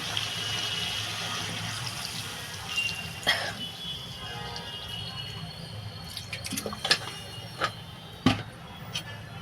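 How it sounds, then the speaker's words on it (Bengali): Water pours into a curry cooking in a pan, a running, splashing stream with scattered drips and a few utensil clinks, fairly close and moderate in volume. "আমি এবার পরিমাণ মতো জল দিয়ে দেবো"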